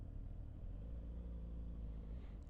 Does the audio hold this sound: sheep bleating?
no